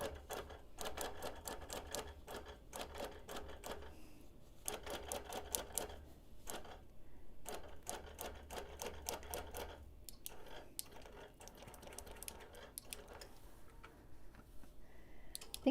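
A sewing machine free-motion quilting a hexie quilt runs in quiet bursts of rapid ticking stitches, separated by short pauses as the fabric is moved along.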